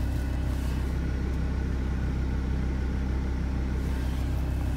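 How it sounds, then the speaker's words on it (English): A car passing by on a cold road, a low steady rumble of engine and tyres heard close, with no talking. "Ooh, there's a car."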